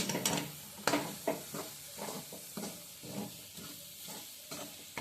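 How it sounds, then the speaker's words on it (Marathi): Egg bhurji sizzling in a frying pan with coriander added, soft steady frying hiss broken by repeated scraping and stirring strokes of a spatula, fairly quiet and close. "अंड आहे ते व्यवस्थित आपण फ्राय करून घेतलेलं आहे"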